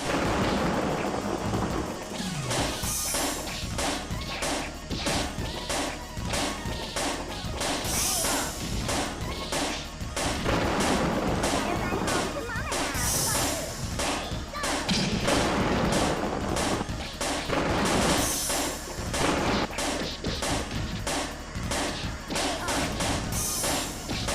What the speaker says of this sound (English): It definitely has some audio that is horribly delayed